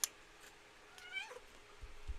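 A single soft, drawn-out cat meow rising and falling near the middle, faint against a quiet room hum, with a couple of small clicks and bumps around it.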